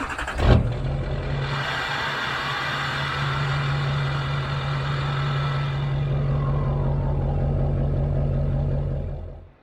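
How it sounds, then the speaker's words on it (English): An LML diesel truck fitted with a 65mm Wold Fab turbo pulls away after a door-like thump, its engine droning steadily with a sustained turbo whine heard from inside the cab, then fading out. "the turbo is actually a lot louder inside the cab"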